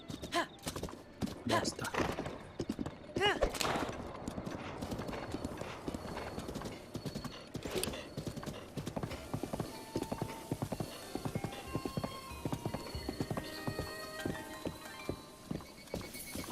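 Horse hooves clip-clopping steadily in Zelda: Breath of the Wild, a continuous rhythmic trot with an occasional whinny, under game music and someone talking.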